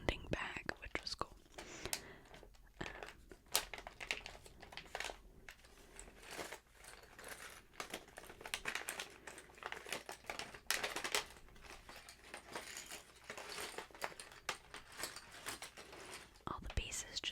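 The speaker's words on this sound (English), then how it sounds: "It's in this nice, like, crinkly sounding bag, which was cool." Plastic bag of LEGO pieces crinkled and handled up close, a steady run of soft rustling and crackling under quiet whispering throughout.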